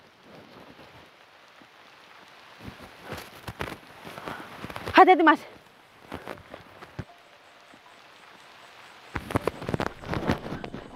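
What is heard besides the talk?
rain falling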